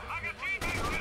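A single loud, close gunshot cracks sharply in the Rainbow Six Vegas 2 video game, following a brief stretch of quieter game sound with a faint voice-like tone.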